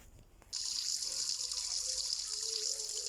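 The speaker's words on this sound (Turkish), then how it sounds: "Hemen elimi yüzümü yıkayayım." Running water in a Roblox game, a steady bright splash like a tap for washing hands and face, starts abruptly after a brief quiet moment and continues evenly, soft in level.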